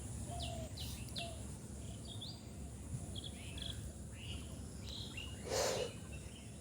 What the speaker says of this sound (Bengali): পাখি ডাকে,